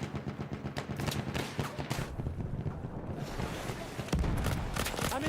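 Rapid gunfire from Battlefield, loud bursts of shots and explosions crowding a dense, noisy battle mix, with a heavier blast near the end.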